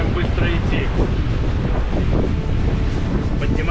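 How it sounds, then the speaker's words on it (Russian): Strong wind roars across the microphone aboard a heeling sailing yacht moving at speed on the sea, with waves rushing and splashing close by; a voice speaks faintly beneath the buffeting. "Хороший крен, наверное, сильный ветер."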